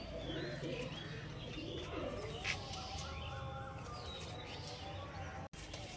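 Domestic pigeons of the kalanka breed cooing in a loft, soft repeated coos mixed with scattered chirps and background rustle, moderately near and low in level with no talk.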